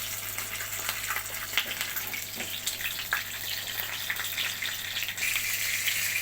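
Fish coated in Goan-style red masala frying in hot oil in a pan over a slow medium flame, a steady close hiss and crackle continuing without pause.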